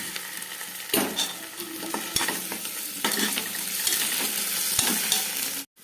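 Ginger garlic paste sizzles steadily in a hot pan for paneer pulao, with sharp clinks and scrapes as a spoon stirs it repeatedly, close and with no talk.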